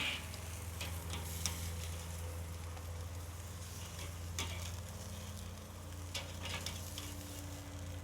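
Wagyu ribeye steaks sear over a kettle grill that isn't quite hot enough, giving a faint, steady low sizzle with scattered crackles and pops and a constant background hum.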